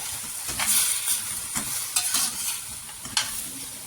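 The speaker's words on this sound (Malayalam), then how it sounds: "ഒരുവിധം നന്നായിട്ട് വഴറ്റണം" Whole spices sauté in oil in a pan with cashews, cloves, cinnamon, fennel and cardamom, a close, steady sizzle broken by several scraping stirs, no voices.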